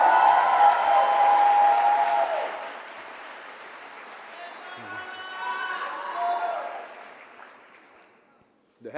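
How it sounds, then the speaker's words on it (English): An audience applauds at an Erasmus student network opening plenary in Ancona, with loud clapping that fades to a lighter patter, swells briefly again, then dies away. "Huge round of applause!"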